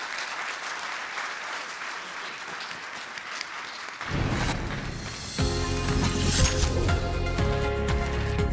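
Conference audience at EU Space Days on the main stage clapping, a steady wash of applause that swells louder after a few seconds and holds through to the end.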